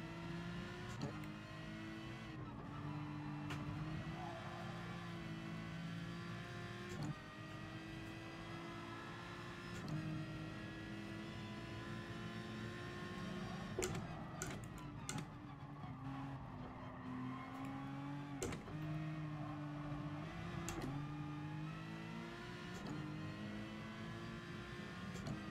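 Race car engines in a racing game rev and accelerate continuously, rising and falling pitch with repeated gear shifts, steady and fairly quiet, with no talk.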